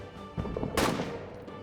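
Gunfire in the trench warfare video game All Quiet in the Trenches, a short burst of a few sharp shots with one louder crack, heard without talk.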